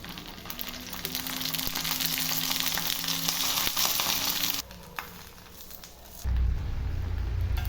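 Fish masala fries in a little oil, probably wrapped in banana leaf, with a strong continuous sizzle that dips briefly, then returns over a heavier low rumble.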